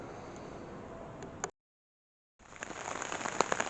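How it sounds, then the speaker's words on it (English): Rain patters steadily on a rain tarp in the woods, a close, dense hiss of drops broken by a short silent gap before it returns slightly heavier. "It's raining right now, so I'm under a nice rain tarp."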